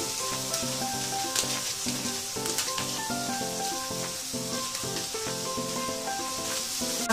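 Onions and ginger-garlic paste fry with spices in a pan for matar paneer, giving a steady, close, crackling sizzle throughout. Soft background music plays underneath.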